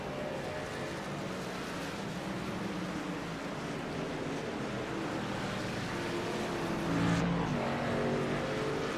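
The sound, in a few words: race trucks passing on track in racing video game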